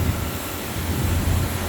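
Steady low drone of a British Airways airliner at Toronto airport, a continuous engine rumble that holds at an even level with no voices.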